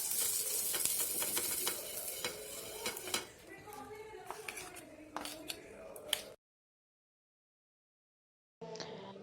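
Grated coconut frying in a pan for homemade patishapta, a close crackling sizzle with spatula scrapes and stirring clicks, ending in a brief silence before the frying resumes.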